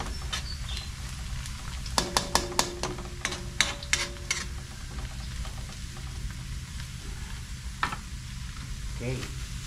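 Garlic frying in a pan gives a steady sizzle with bursts of stirring and scraping clatter in the middle, fairly close and moderate, with no talk.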